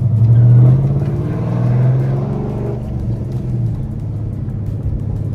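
A Dodge Challenger with a 5.7 Hemi V8 and a Stage 2 Texas Speed cam kit revs loud and close, a deep rumbling blip that settles back into a choppy, lumpy idle.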